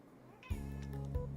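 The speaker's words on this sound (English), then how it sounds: "Meow. My cat agrees apparently." A pet cat meows close by, a single short drawn-out call that starts abruptly and rises over a quiet room background.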